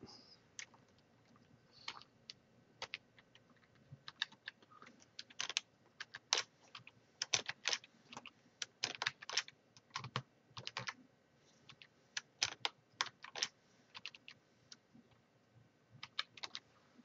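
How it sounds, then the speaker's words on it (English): Typing on a computer keyboard comes through as irregular bursts of quick, crisp key clicks with short pauses between flurries, faint and close in a quiet room. "Maybe I'm just typing it too fast."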